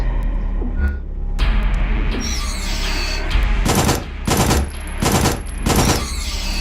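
Rapid bursts of gunfire from a SIGNALIS shooting sequence come in several sharp volleys, loud and close, with mechanical clicks and background tones between bursts.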